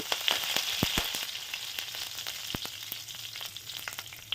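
Curry leaf sprigs sizzle in hot oil for an egg masala curry, a steady bright crackle with sharp popping bursts, loudest early and settling into continuous frying.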